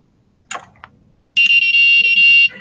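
An electronic tone buzzer on a motor controller sounds one steady, loud, high-pitched beep lasting about a second, after a couple of brief clicks.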